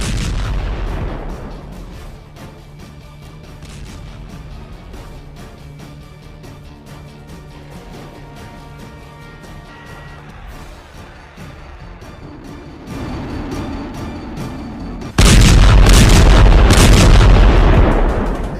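Artillery shelling from the Russia–Ukraine war rumbles and cracks in repeated distant booms through noisy field audio, building toward a sudden, much louder sustained blast near the end, with no talk.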